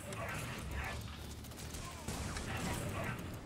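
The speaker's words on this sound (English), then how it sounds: "It's a lot of missiles, bro." A rapid volley of missiles firing in the strategy game C&C Rivals, a dense run of launches and impacts that swells and fades, with a fresh burst midway, heard over continuous game audio.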